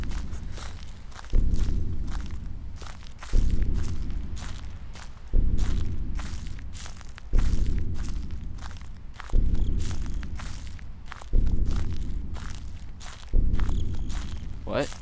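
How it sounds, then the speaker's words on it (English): Steady footsteps crunch along in the horror game Slender: The Eight Pages, a regular walking rhythm of close, loud steps that runs throughout with no talking over it. "Do I hear his footsteps over there?"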